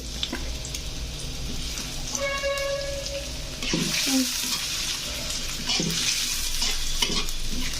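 Sliced boiled potatoes lightly frying in a pan with salt added, a close sizzle broken by stirring clatter and scraping, plus a short tonal beep partway through.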